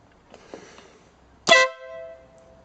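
A motorcycle horn fitted to a Honda VFR, mounted on the inner fairing panel, gives one loud, close, brief blast after a quiet moment.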